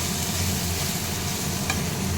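Spice paste with tomatoes frying in a pan while being stirred, a steady close sizzle with soft scraping throughout and no talking.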